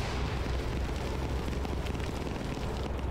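Anti-tank grenade explosion in the Arma 3 video game, a dense, sustained rumbling blast with heavy low-end roar and debris-like crackle filling the whole moment, loud and steady with no talking.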